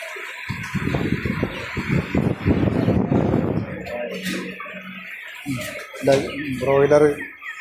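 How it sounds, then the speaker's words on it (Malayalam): Chickens cluck and a rooster calls nearby at a livestock and poultry market, with a person talking over the first half before the birds take over. "ഇവിടെ നല്ല പൂവൻ കോഴി ഉണ്ട് കേട്ടോ"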